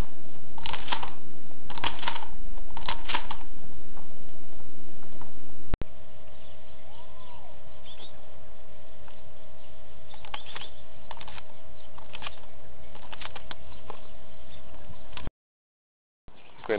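Shotgun shells being pushed one by one into a shotgun's magazine during a speed reload, several sharp metallic clicks and rattles in quick clusters, with handling noise and a steady background hum.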